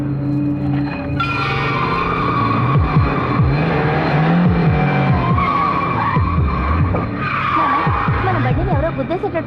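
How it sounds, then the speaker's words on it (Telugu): A car approaches fast and skids, with loud tire squeals sweeping up and down over a continuous engine roar for several seconds, close and prominent, fading slightly at the end. "మన బండిని ఎవరో గుద్దేసేటట్టు వస్తున్నాడానా?"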